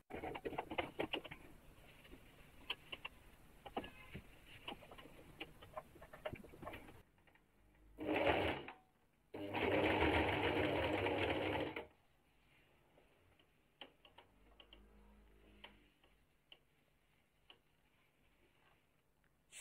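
A sewing machine stitching the hem of jeans, with rapid ticking mechanical clicks throughout and two louder, denser bursts of running stitching in the middle, close and without talk.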